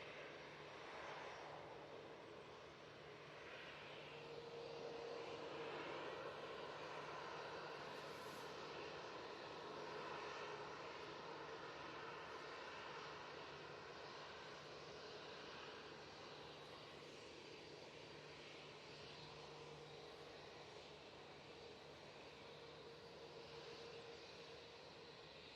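Airbus A319 airliner engines at Manchester Airport, a distant steady roar that swells in the middle and lingers as a low drone with faint whining tones, no voices.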